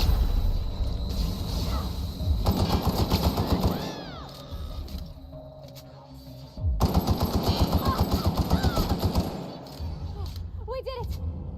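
A shotgun fires repeatedly in the video game The Outer Worlds, loud rapid volleys in two long stretches with quieter gaps, while a voice talks over the action.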